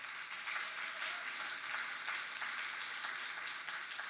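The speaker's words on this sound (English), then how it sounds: "we should give a big round of applause to everybody who's involved" Audience applause at an arts event, a steady patter of many hands clapping, fairly faint and distant, with no speech over it.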